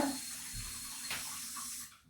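Water running steadily from a bathroom tap, a continuous broadband hiss of moderate level that carries on for about two seconds before easing off at the end, with no talking over it.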